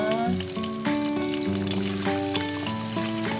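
Mushrooms sautéing in a pan give a steady, moderately loud sizzle throughout, partly masked by music playing over it.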